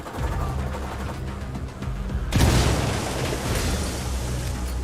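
A grenade goes off in the video game Ghost Recon Wildlands, one sudden loud blast that cuts through low rumbling background noise and leaves a rough, spreading tail.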